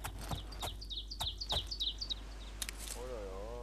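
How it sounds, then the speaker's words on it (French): Birds chirp in the Oblivion video game with quick, bright tweets scattered over a faint ambient hum. A few sharp clicks come near the end. "Il y a des oiseaux. J'entends des gazouillis."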